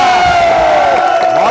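A group of young Army and Agniveer recruits at a training academy cheers loudly together, a close, sustained burst of shouting and whooping voices with a steady sharp tone running through it.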